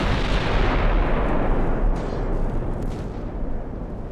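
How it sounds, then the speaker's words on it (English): Naval guns from destroyers firing in the Ultimate Admiral: Dreadnoughts warship game, a dense continuous rumble of artillery booms and blasts, loud and sustained without talk. "my destroyers are firing their little guns at him"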